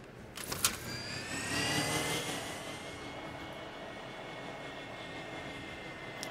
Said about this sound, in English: Let me hide and put out this recon drone.